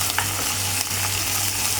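Ginger, garlic and onion paste fries in hot oil with a dense, continuous sizzle and a few faint stirring scrapes, loud and close, with no voices.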